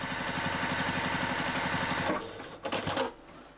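A home sewing machine top stitching a fabric bag, a steady rapid motor hum with fast rhythmic needle pulses for about two seconds, then stopping, followed by a few handling clunks.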